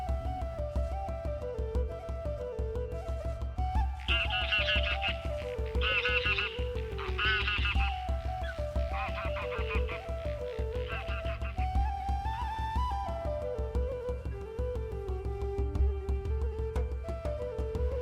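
Repeated honking calls of greylag geese rise and fall over a steady low hum, several birds calling in a loose, irregular sequence nearby in the breeding season.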